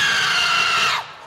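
A woman's high, sustained scream rings out loud and unbroken for about a second before cutting off abruptly, set in a comic murder-mystery scene from the game Clue.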